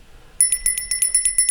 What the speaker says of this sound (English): 2 sets of bells from just a couple of decorations for the holidays